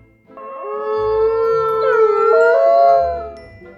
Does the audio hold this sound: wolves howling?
yes